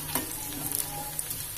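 Spices, including crushed cloves and black pepper, sizzle and crackle in hot oil in a pan for samosa filling, a continuous close frying hiss with small stirring scrapes.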